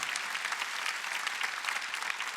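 A congregation at a Sunday church service claps together, continuous lively applause with a slightly rhythmic pulse, fairly close and full, with faint voices mixed in.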